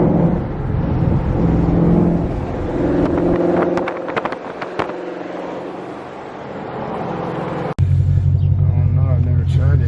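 A Shelby GT500 with a full-weld drag pack revs hard nearby, a loud rumbling engine that surges and builds, with excited voices shouting over it and a sharp change in tone near the end.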